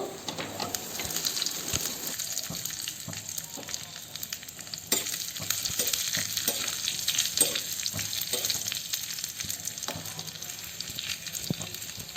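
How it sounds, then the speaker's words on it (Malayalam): Mustard seeds, curry leaves and dried red chillies fry in hot oil for Kerala inchipuli, a dense continuous crackling sizzle with scattered pops and small stirring clinks, close up and with no voices. "കടുക് പൊട്ടി വരുമ്പോൾ അതിലേക്ക് കുറച്ച് കരിവേപ്പിലയും കൂടി ഇട്ടു"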